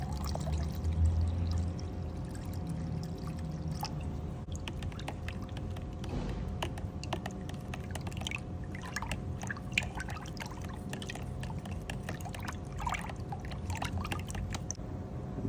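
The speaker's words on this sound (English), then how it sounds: "I'm just going to pour it straight into the PPS pot." Paint pours steadily into a PPS spray gun pot during a Holden HX Kingswood body restoration, a continuous close liquid glug and trickle with small splashes and clicks, lasting the whole stretch without speech.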